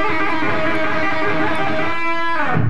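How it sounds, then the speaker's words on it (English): Guitar lick with horizontal vibrato played at a quicker pace, a short close burst of sustained, shimmering notes that wobble in pitch, loud and alone before cutting off. "I'm going to use a horizontal vibrato, working my way up and down."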